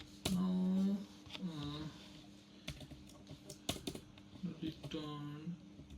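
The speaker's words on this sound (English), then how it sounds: "I'll type out the solution." Computer keyboard keys tapped in short irregular clusters while someone writes code, close and moderate in level, mixed with intermittent speech.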